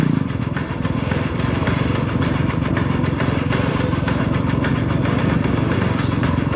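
Motor vehicle engines during a stunt show crossover, a car, motorbikes and a quad running at once, a steady loud droning rumble that continues throughout, no talk.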